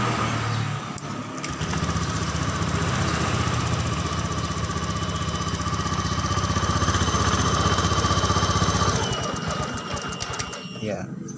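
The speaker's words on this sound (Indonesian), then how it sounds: "Jadi ketika mesin di setar pertama, maka RPM akan naik, kemudian beberapa saat dia akan turun ya" A Honda Beat scooter engine idles at a cold start, a steady close mechanical drone and clatter whose revs climb gradually, then drop and settle, with a voice talking over it.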